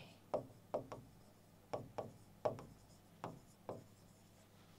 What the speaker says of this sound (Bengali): আমি এখানে একটু একটু করে লিখে দিচ্ছি।